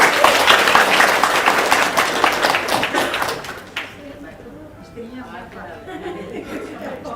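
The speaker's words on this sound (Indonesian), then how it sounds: "Tepuk tangan dong buat istri saya" A seated audience at an Indonesian talk gathering breaks into dense applause that fades after a few seconds into murmuring chatter and scattered chuckles.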